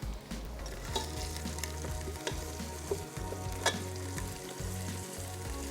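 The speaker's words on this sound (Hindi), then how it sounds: "लहसुन अदरक के पेस्ट को थोड़ा सा भूनेंगे।" Garlic-ginger paste fries in a pan with a continuous soft sizzle, punctuated by light scraping stir strokes and a low burner rumble underneath.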